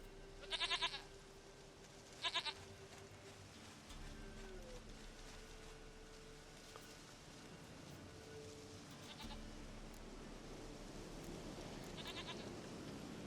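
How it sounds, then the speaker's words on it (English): A goat in the video game The Witcher 3: Wild Hunt bleats twice in quick, close bursts near the start, then the ambience carries on alone: a steady hiss like rain and a low hum. "Goat of mine, dearest,"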